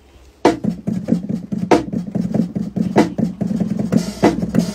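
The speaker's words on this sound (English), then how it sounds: "Next up, hi-hats." Quick, steady hi-hat ticks layered over a beat, with heavier snare hits recurring among the busy rhythmic pattern, loud and close.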